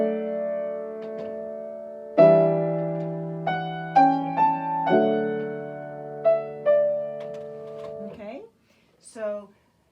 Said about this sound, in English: So Handel really wanted that Chaconne bass line to be heard.